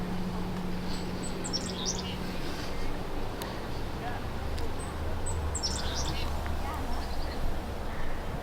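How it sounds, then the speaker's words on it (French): Birds chirp and call in a Montreal botanical garden, with brief high tweets in two clusters over steady outdoor ambience and a low hum, some quacking possible nearby. "J'aime bien le bruit des oiseaux ici."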